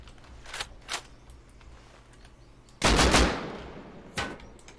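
Gunfire in the video game Rust: a few sharp, separate shots, then a loud close burst that trails off, followed by another lone crack, all fairly near with no talking.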